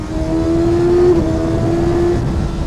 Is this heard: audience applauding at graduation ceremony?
no